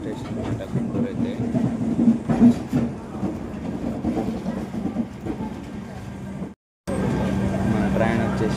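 The Prashanthi Express rolls into Guntur Junction with a steady low rumble and clatter of wheels on track, heard from onboard. A voice talks over it, and the sound cuts out briefly before resuming.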